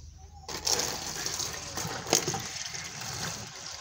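Water poured from a container into a floor drain set in a cemented indoor floor, a steady close splashing gush that starts abruptly and runs throughout, with brief sharper splashes.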